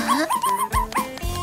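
A dog yips, whimpers and gives short barks in a quick excited run, close and fairly loud, with no talking over it.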